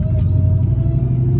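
Deep, steady engine rumble from a 950+ horsepower sleeper Dodge Hellcat accelerating, heard from inside the car as a continuous loud low drone with a faint whine above it.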